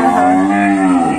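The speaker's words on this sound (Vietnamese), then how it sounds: "Đó con bò nè, bò mẹ nè, thấy không?" A Sind mother cow on a farm lets out a single loud, close, drawn-out moo lasting about a second, with nothing else audible.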